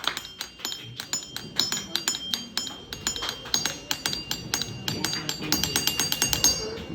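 Glass vessels of matching shape filled with different amounts of water are tapped in a jal tarang performance at a school science activity, giving a quick run of bright ringing clinks in a steady rhythm, close and clear.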